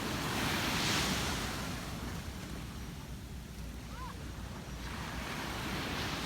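Strong sea waves roll onto the beach at San Narciso, Zambales, a loud, steady wash of surf that swells at the start and again near the end, with wind buffeting the microphone.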